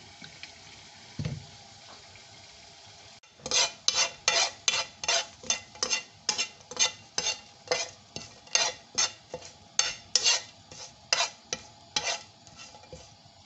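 Oil tempering (baghar) for a yogurt bottle gourd curry: a soft hiss, then a quick run of rhythmic stirring strokes against the pan over a continuous sizzle, close and fairly loud.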